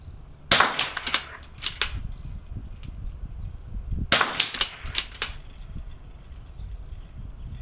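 Rifle shots ring out at an NRL22 rimfire match range, two sharp loud cracks about three and a half seconds apart, each followed by a quick clatter of echoes and small impacts over a low outdoor rumble.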